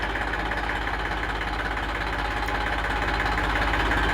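An Eicher 380 42 hp tractor with about 350 hours of use idles steadily nearby, a continuous low rumbling drone with a faint rhythmic knock and no talk.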